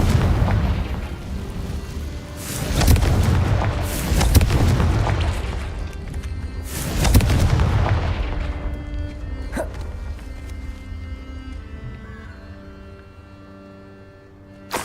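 Bombarda and Confringo spells explode in Hogwarts Legacy, producing heavy booming blasts in quick succession during the first half, each rolling off into a rumble, then a sharper crack before the sound settles into quieter game ambience.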